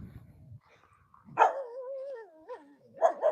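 Dog in the Imaginarium: Gym for Your Mind video game barking, with a low growl up front, then one loud yelp that slides into a long whining howl and two short barks at the end, close and clear.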